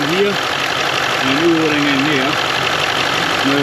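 A Range Rover L405 engine idles while warming up after an EGR valve and cooler replacement, a steady low hum running beneath someone talking nearby.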